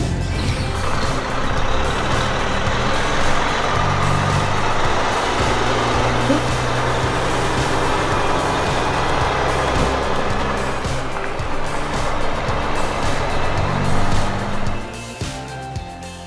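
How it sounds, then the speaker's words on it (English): A loaded logging truck hauls timber up a steep mountainside, its heavy engine droning steadily and loudly throughout with a continuous mechanical roar, reversing-style beeps and air-brake hiss blended in, fading slightly near the end. "What a magnificent sight to see the Thunderbird TTY70 tackle that steep mountainside."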